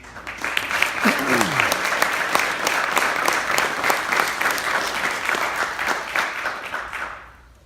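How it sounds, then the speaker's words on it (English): Brethren and guests at a Masonic lodge stated meeting clap in a full, sustained round of applause that fades out at the end, with a brief voice sound early on. "Thank you for your applause."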